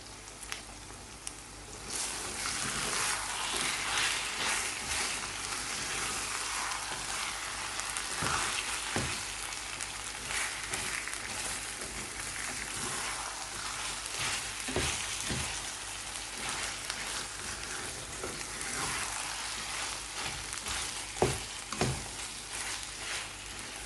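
Minced lamb and potato curry sizzles and fries steadily in a pan, a dense continuous crackle with a few sharper spits and pops scattered throughout, close and fairly loud, with no talking.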